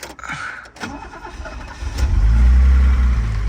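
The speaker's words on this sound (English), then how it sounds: "let's fire it up." A 1968 Mercedes 250SL starts up: a brief cranking whir, then the engine catches and settles into a loud, steady idle close by.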